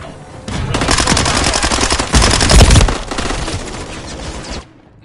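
Sustained automatic gunfire in a Call of Duty Modern Warfare 3 multiplayer match, loud and dense for several seconds with a heavier burst midway, then cutting off abruptly.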